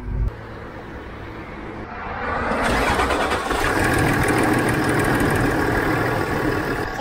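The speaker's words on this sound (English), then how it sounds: "What we're gonna do now is start the vehicle and check how long it takes to get oil pressure" A Land Rover Discovery LR4 engine cranks briefly, catches and settles into a steady, fairly loud idle close by, with no talking.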